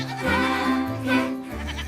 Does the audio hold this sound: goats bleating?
yes